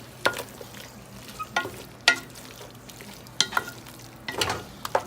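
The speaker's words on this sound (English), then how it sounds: "Make sure you mix them really well." Squirrel meat with oyster sauce is stirred in a hot pan, giving a soft sizzle under irregular scraping strokes of the utensil, close by and fairly quiet.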